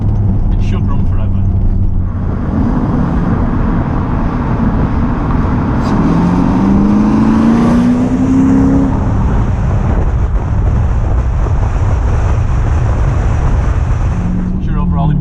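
A Lotus car fitted with a Lexus V8 engine drives with a loud, continuous rumble close to the listener. Engine pitch sweeps upward partway through before settling back to a steady roar.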